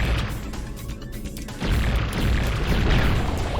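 Manta ray guns in Spyro: Year of the Dragon fire at seaweed, producing loud, booming, continuous blasts and impacts that swell and persist without pause, with no speech.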